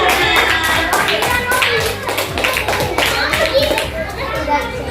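Classroom applause for group 3: children clap in quick, uneven bursts amid lively kids' chatter, close and fairly loud throughout.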